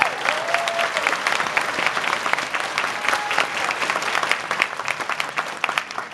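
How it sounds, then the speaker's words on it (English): A sci-fi convention audience at a cast panel breaks into loud, sustained applause, a dense spread of hand claps with faint crowd murmur beneath, continuing throughout. "please give him another round of applause"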